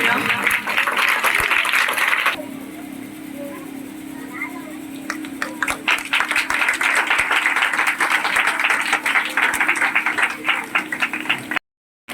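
Children clap together at a village ceremony honouring students selected in the NEET exam. The applause is steady and continuous, with voices speaking over it, and stops abruptly near the end.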